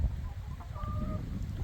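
Hen clucking softly at close range during an afternoon rest, a short run of low, breathy clucks over steady outdoor background noise, with one brief higher call near the middle.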